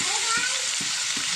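Tomatoes and onions with turmeric and salt cooking down in a pan, a loud close steady sizzle with a few soft stirring scrapes over a short moment.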